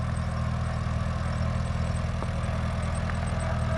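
A Cub farm tractor engine runs steadily at a smooth, even idle, a continuous low mechanical drone throughout with no voices.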